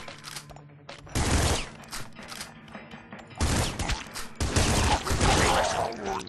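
Rapid bursts of gunfire from gun-wielding alligators in a sewer level of Nuclear Throne, loud clustered volleys separated by brief quieter gaps, with no talking.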